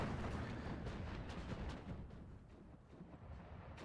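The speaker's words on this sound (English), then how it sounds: "Artillery doing some damage, yeah." Artillery fire in the World War II strategy game Steel Division 2, a continuous dense rumble of distant shelling and explosions, steady and muffled throughout with no talk.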